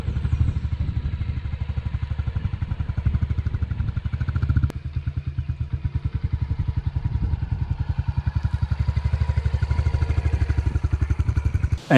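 A 2022 Honda CRF125FB motorcycle being ridden, its engine thumping steadily and close by for the whole stretch, with a brief dip in revs partway through before pulling on again.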